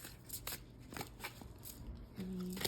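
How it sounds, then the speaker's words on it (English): Tarot and oracle cards being shuffled by hand, a quiet run of soft riffling and flicking bursts that repeats several times close to the microphone. "Let me shuffle first."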